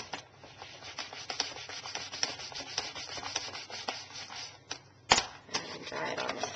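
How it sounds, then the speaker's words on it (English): A rubber stamp scrubbed on a Stamp and Scrub cleaning pad after a couple squirts of cleaner, giving close, steady rubbing and scratchy friction with brief louder scrapes near the end, alone without talk. "And then I will clean on my Stamp and Scrub."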